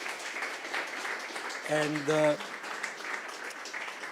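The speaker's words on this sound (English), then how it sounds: "I'd like to thank, with another round of applause," Audience applause at a robotics-in-agriculture forum session, a steady mid-level wash of clapping that runs throughout, with a single voice speaking briefly in the middle.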